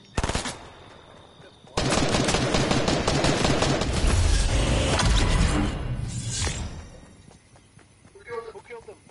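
Rapid machine-gun fire is aimed toward the player in a video game. After an opening burst, a dense rattling stretch runs for about four seconds, then tapers off as someone talks over it.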